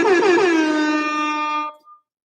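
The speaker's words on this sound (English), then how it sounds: "I really like the air horn sound" A single loud, blaring air horn blast sounds for about a second and a half, then cuts off abruptly.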